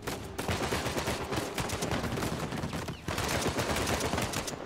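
Rapid, continuous gunfire rattles through an Uncharted 4 shootout, loud and dense with bursts of shots and a brief gap before the firing resumes.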